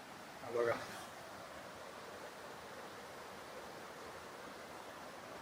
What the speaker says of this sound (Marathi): पूर्णपणे हा धबधबा येतोय तिकडून वरून